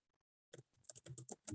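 Keys clatter on a computer keyboard picked up by an open microphone during an online meditation town hall, a quick irregular burst of close, crisp clicks after a moment of silence.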